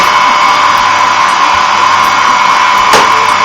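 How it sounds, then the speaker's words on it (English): Steady, loud whooshing roar of a vacuum cleaner up close, sucking out the vents of an Emerson ice cube maker, with a brief sharper suction burst near the end. "vacuum out these vents here"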